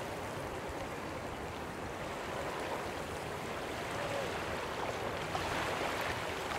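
Water flowing near the player in the video game Bigfoot, a soft continuous rushing stream sound, faint and steady with no talk over it.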